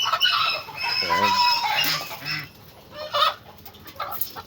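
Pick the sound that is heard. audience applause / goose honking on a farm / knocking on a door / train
goose honking on a farm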